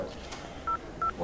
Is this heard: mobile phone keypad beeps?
yes